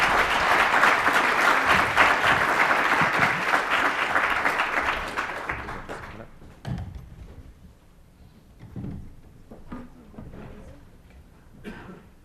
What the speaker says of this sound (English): Big round of applause for joining the conversation